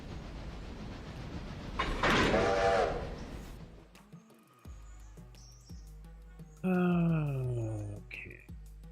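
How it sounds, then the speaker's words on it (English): Trains run in a railroad video game: a rumbling burst of noise with a squealing tone, a few clanks and dings, then a long, loud horn blast that drops in pitch near the end. "I want this Alarka train to go up before that other one."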